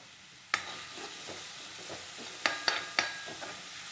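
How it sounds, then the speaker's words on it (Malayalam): Finely chopped cabbage, green chilli, ginger, curry leaves, garlic and onion sauté in a pan with a low, quiet sizzle, broken by a few sharp clinks and scrapes of a stirring utensil. "കാബേജ്, പച്ചമുളക്, ഇഞ്ചി, കറിവേപ്പില, വെളുത്തുള്ളി, സവോള ഇതിൽ ചെറുതാക്കി അരിഞ്ഞെടുത്തത് അതിൽ ചേർത്ത് നമുക്ക് ഒന്ന് മൂപ്പിച്ചെടുക്കണം"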